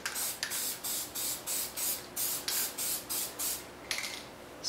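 Yellow spray paint hisses onto craft foam for fly-tying bodies in about ten short, evenly spaced bursts, each a sharp close hiss separated by brief pauses.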